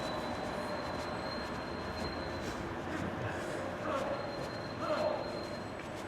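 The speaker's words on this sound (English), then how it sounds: "let's look at the tram. Called Super Tram. That's the Meadowhall one." A Sheffield Supertram bound for Meadowhall rolls past on a street with a steady rumble and a thin, high wheel squeal, while a voice talks faintly in the background and the noise swells briefly near the end.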